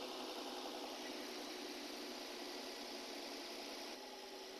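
A Nissan VQ35 V6 idles quietly and steadily, a soft, even low rumble with a faint whine over it that eases slightly near the end as the revs settle.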